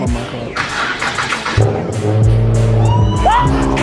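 A car engine cranks and catches after about one and a half seconds, then settles into a loud, close running note with a couple of revs, while people talk and exclaim excitedly over it.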